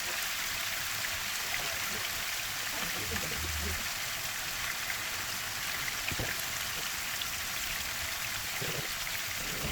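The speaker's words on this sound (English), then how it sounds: "You can see the bubbles in the oil." Beancurd pieces frying in hot oil, still full of water, giving a steady close hiss and dense crackling sizzle like rain that holds unbroken throughout, with faint low stirring sounds beneath.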